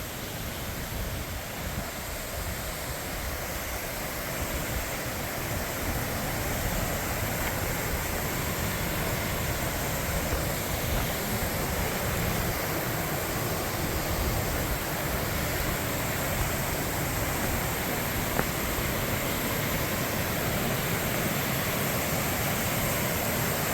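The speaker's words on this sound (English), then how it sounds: "A waterfall, a small waterfall over the rock ledge to the left." A small waterfall pours over a rock ledge beside a stream, giving a steady, broadband rushing wash that stays even and unbroken throughout.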